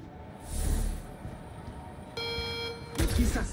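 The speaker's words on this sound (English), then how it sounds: "I've set an alarm off" An alarm blares in the game Cyberpunk 2077 Phantom Liberty, a steady electronic tone switching on midway and holding loud, with game noise and a burst of sound around it.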